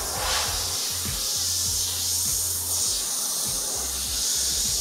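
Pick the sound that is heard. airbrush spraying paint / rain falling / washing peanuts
airbrush spraying paint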